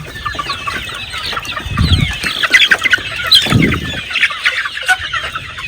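Blue and hatch gray chickens squawk and cluck continuously at close range, a dense chatter of overlapping calls with a couple of louder low thumps or flaps mixed in.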